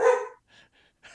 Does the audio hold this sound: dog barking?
yes